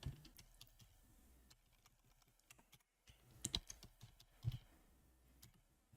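Rapid, uneven clicking of keys as a name is typed on a computer keyboard at a desk, close and fairly quiet, with a short pause midway and a few louder keystrokes near the end, no voice.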